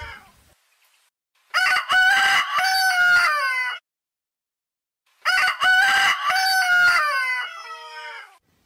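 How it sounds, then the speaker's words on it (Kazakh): A rooster crows twice, each a loud, drawn-out cock-a-doodle-doo lasting about two seconds, close up and separated by a few seconds of silence. "Бұл әтеш. Әтеш шақырады."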